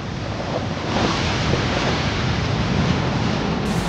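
Ocean waves and strong wind roar steadily around a sailboat on a North Atlantic crossing from the Azores to Portugal in building seas, a dense, unbroken wash of surf and gusts with no talking.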